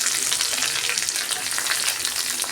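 Chopped onion frying in hot oil with mustard seeds, whole garlic cloves and curry leaves for a gourd dal, a dense close sizzle with light stirring and no talk.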